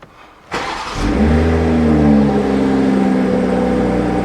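A BMW M340i's B58 inline-six engine cranks and catches, then settles into a loud, steady idle rumble close by.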